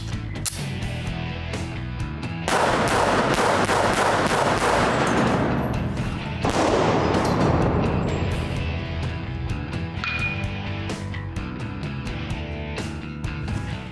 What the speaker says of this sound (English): Let's set up, let's do a little quick shooting, multiple bad guy targets.